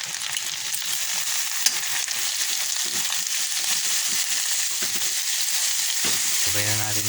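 Shrimp paste (alamang) and garlic frying in a pan as an Ilocano vegetable stew is cooked, giving a steady, close sizzle throughout with a burst of louder crackle and a brief low voice near the end.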